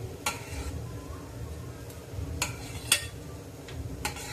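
Sev stirred into a spicy sev bhaji in a pan: a few sharp clinks of a spoon against the pan spaced over several seconds, above a low, steady background hiss.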